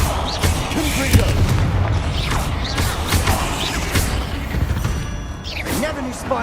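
A Confringo explosion spell goes off in Hogwarts Legacy with booming blasts and crackling impacts, set against game effects and background voices.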